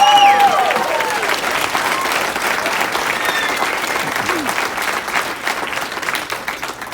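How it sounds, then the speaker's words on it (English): Wedding reception guests break into a full round of applause, dense and sustained, starting strong with a few voices briefly over it and slowly tapering off toward the end. "how about a round of applause for my parents and Kayla's parents for making this happen?"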